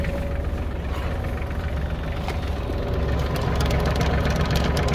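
ISEKI Geas 33 compact tractor engine idling, a loud, steady low diesel rumble that holds evenly for several seconds and swells slightly toward the end, with no talking.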